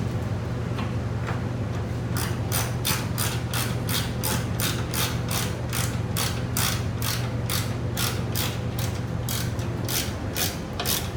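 A hand ratchet tightens a 13 mm bolt on a 2010-2015 Chevrolet Camaro SS hood, clicking in a fast, even run of crisp close ticks over a steady background hum.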